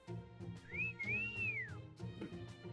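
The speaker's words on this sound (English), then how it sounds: "He whistled for me" A dragon in a video game whistles a smooth two-part tone that rises and then slides down, heard fairly close over soft game music.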